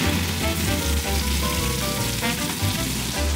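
Salmon fillet frying skin-side down in a pan, giving a steady, fairly loud sizzle and crackle that runs through the whole stretch with no one talking.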